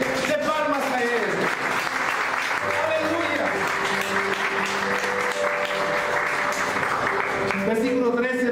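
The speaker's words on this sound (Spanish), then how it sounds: "Dale una ofrenda fuerte de palmas a Él." A church congregation applauds strongly and steadily for several seconds, a dense wash of clapping filling the room, with voices and a held musical tone underneath.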